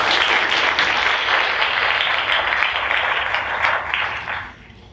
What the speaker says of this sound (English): let's give our supporters a round of applause